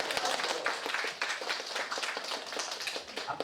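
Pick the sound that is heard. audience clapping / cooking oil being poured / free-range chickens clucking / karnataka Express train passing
audience clapping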